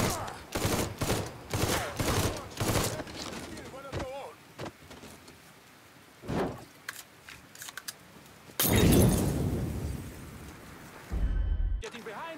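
Gunfire in the video game Mafia III, a series of sharp shots in bursts during the first four seconds, then sparser hits and a louder burst near the end, mixed with game sounds.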